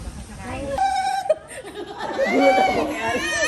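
A goat bleats in quavering calls on a farm while people chatter and laugh close by.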